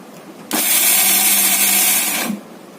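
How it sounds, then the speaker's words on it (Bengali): An electric coconut grater whirs loudly while grating coconut, a steady high-pitched motor drone that starts abruptly, holds for about two seconds and cuts off, with no talking. "এখন দেখো 1 সেকেন্ডে আমার নারকেল কোড়ানো হয়ে যাচ্ছে"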